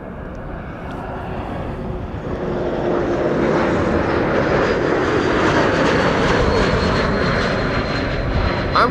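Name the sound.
KLM flight 936 from Glasgow arriving, Amsterdam Schiphol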